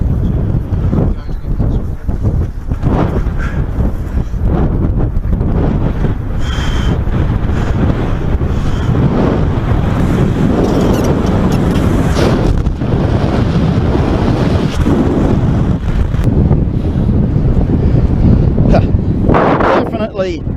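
Strong wind roars and buffets continuously against the microphone during a speedwing flight, loud and close throughout, with a voice speaking intermittently beneath the gusts.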